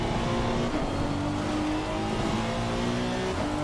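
Race car engine in Assetto Corsa Competizione on a wet-setup test, droning loud and continuous with shifting pitch as the car accelerates and lifts, heard alone without voices.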